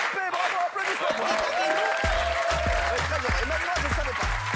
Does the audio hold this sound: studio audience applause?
yes